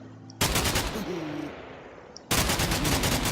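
An RPK light machine gun fires in the Minecraft Flans Mod: two loud, close automatic bursts of rapid shots separated by a short gap, with no speech over them.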